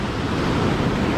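Rough ocean waves break on a Baja beach on a warm morning, a dense, roaring wash of surf with wind buffeting the microphone, loud and continuous throughout.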